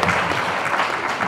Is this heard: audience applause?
yes